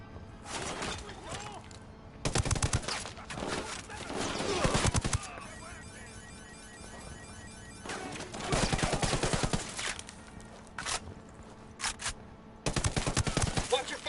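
Bursts of rapid automatic gunfire from a Ghost Recon Wildlands firefight, several loud volleys separated by short pauses, with sharp crack-like impacts mixed in.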